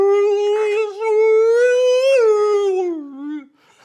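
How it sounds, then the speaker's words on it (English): A long, sustained whale-like wail, a single loud tonal call that holds steady, rises slightly and then slides down before trailing off near the end. It is close and clear, with no talk over it. "It's like a whale sound."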